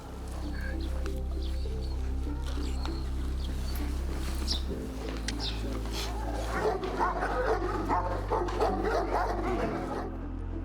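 Dutch shepherd police dogs from the Netherlands, trained to search for explosives and people, bark and whimper intermittently, fairly close, under steady background noise as someone speaks.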